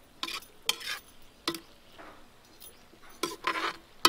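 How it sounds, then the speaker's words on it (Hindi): Spoon stirring tomatoes into a capsicum curry in a pan, heard as several separate scraping strokes with soft rubbing between them and a faint sizzle underneath. "टमाटर डालने के बाद चला दूंगी अच्छी तरीके से।"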